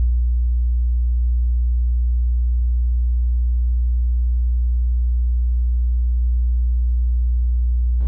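A steady, loud 60 Hz bass test tone from an LG XBOOM RNC9 party speaker hums without a break for the whole stretch, alone and unchanging.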